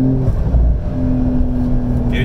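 A Porsche 992 C4S with the sports exhaust engaged accelerates, a loud deep engine drone with a steady low tone heard from inside the car alongside voices.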